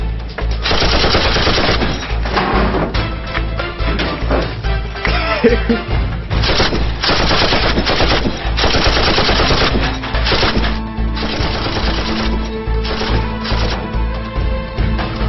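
Rapid gunfire bursts, like a machine gun, crackle loudly and almost nonstop through a comedy skit, with a few shouting voices mixed in.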